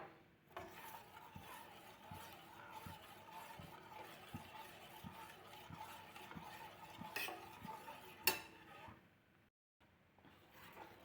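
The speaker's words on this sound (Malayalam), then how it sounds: "ഇനി അത് നമുക്ക് തീ കത്തിച്ച് കൊടുക്കാം എന്നിട്ട് കൈ വരാതെ ഇളക്കിക്കൊണ്ടിരിക്കുക" A spoon scrapes and stirs wheat porridge in a pan over the flame in a steady, rhythmic pattern, quiet and close, with a sharp clink near the end before it briefly stops.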